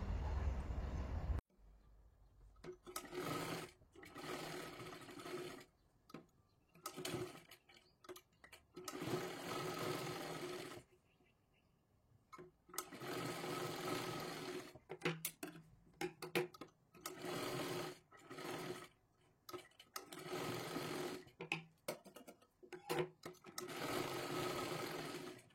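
A sewing machine stitches a blouse seam in repeated quick bursts of rapid mechanical clatter, broken by short pauses as the fabric is repositioned, close and clear.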